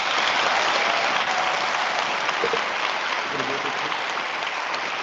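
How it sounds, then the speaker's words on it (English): Steady, dense applause from an audience at a high school senior awards ceremony fills the whole stretch at an even level, with a faint voice briefly audible underneath. "Let's give them a big round of applause."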